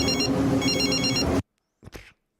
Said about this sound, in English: Yormark, he answers his phone